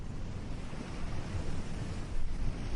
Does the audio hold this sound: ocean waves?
yes